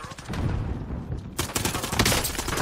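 Rapid gunfire in the shooter Warzone, with dense bursts of close shots in a quick rattling rhythm that grow louder and brighter halfway through, with no talk.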